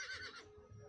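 A horse in the video game Star Stable Online lets out a short, shrill, whinnying neigh at close range, followed by faint hoof clatter.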